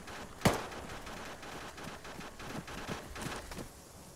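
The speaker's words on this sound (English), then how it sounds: "That gun sounds so fucking derpy." Gunfire in Arma 3, one sharp loud shot followed by a string of fainter distant pops and cracks in an irregular rhythm across an open battlefield.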